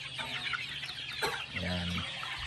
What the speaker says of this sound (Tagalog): ito yung lagayan ng mga ano nila, pinapalaki nila mga manok.